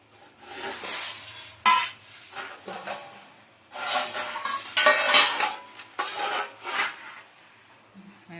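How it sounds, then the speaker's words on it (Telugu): Coconut rice being served onto plates by a sister, with spoons scraping and clinking against dishes in irregular bursts, close and fairly loud, with brief pauses between scoops. "ఇదిగోండి అక్క ప్లేట్లో పెట్టేస్తుంది"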